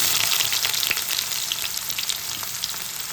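Onion dropped into hot oil with cumin seeds for a mutton gravy, crackling and sizzling loudly and continuously at close range with no voices.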